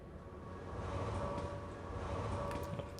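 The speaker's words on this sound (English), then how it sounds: "Right, come on, train." A train pulls in within the video game Red Faction 2, a steady rumbling rolling roar with sustained tonal hums, swelling slightly midway and holding on, with no voices over it.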